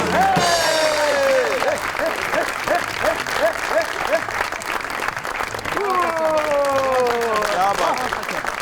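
Studio audience applauds guest actor Firdous Jamal on a Pakistani variety show, steady loud clapping throughout with a host's voice and musical stabs riding over it.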